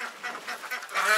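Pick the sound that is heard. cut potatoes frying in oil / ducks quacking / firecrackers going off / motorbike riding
ducks quacking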